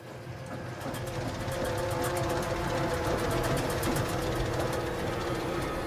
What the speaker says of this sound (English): The washing machine! It's turning on by itself!